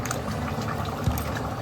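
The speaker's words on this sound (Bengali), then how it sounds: "এবারে আরেকটু দুধ দিয়ে একটু পাতলা করব।" Milk is poured into a semolina and rice flour batter to thin it, a short close liquid pour with a soft bubbling texture.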